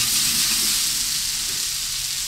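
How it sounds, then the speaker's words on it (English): Food frying in oil in a hot pan during a rice dish demonstration, a steady loud sizzle with continuous bright hiss throughout, no voices. "A good sizzle going"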